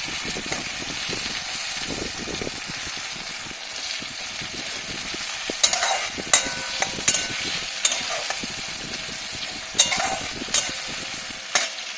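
A tomato is pressed and mashed with a spatula in a pan while spicy salted fish cooks, under a steady frying sizzle, with intermittent sharp scrapes and taps of the spatula against the pan.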